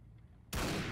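A single abrupt gunshot blast in a video game cuts in after half a second of low ambience and holds as a loud, harsh burst to the end.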